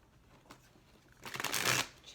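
Tarot cards are shuffled in a quick riffling burst near the end, preceded by a faint soft card tap, close and crisp in a quiet room.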